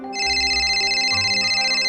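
A phone rings indoors with a bright electronic ringtone in a continuous tone that sounds close and clear, with no talk over it.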